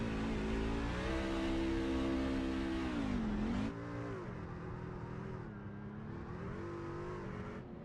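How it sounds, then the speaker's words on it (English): A race truck engine revs hard and steadily during victory donuts at Iowa, its pitch rising and falling through long sustained roars, then drops slightly in level but keeps growling without a break. "Let's listen as Cofield celebrates some victory donuts"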